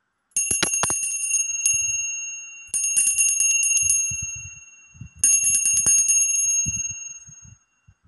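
A small bell rings three times, each bright metallic chime lingering and fading, with soft clicks and handling noises between rings.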